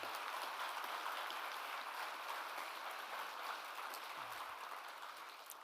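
A room audience at a policy panel applauds the MSIP staff, a steady spread of many hands clapping that holds on and gently fades near the end.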